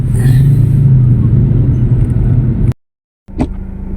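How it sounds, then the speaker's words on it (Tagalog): Heavy, stop-and-go road traffic with motorcycles in the Philippines: a dense, steady low engine rumble fills most of the clip, cuts to a brief silence, then returns with a short rising whine. "Grabe, traffic talaga oh. Only in the Philippines, super traffic"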